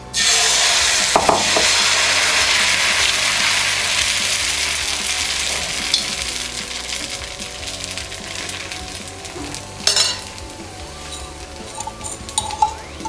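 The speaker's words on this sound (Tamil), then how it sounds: "நம்மளுக்கு தோசைக்கல் நல்லா ஹீட்டாக இருக்குது. இப்போ நம்ம மாவு ஊற்றிடலாம்." Tomato dosa batter hits a hot griddle with a loud burst of sizzling that gradually softens. A few scraping clinks of a utensil come near the end.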